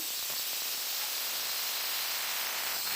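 Pressure cooker on a gas stove releasing steam through its whistle while mutton kheema balls cook for biryani, a steady loud hiss lasting throughout without a break.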